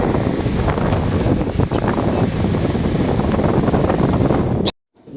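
An Orient 18-litre air cooler's fan blows with a steady, loud whooshing rush up close, then shuts off abruptly near the end, leaving near silence.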